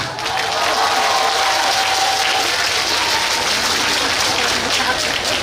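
A festival crowd claps and cheers for a trot singer on an outdoor stage, a loud, dense wall of applause sustained for the whole stretch.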